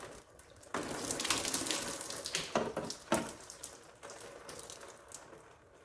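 Water is poured onto a NICECNC door bag on a Polaris RZR 1000XP, a close splashing and trickling that starts abruptly, with a few louder spatters before it tapers off.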